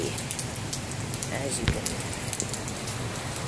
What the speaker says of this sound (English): it's raining right here.